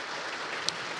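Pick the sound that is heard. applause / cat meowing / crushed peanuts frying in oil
applause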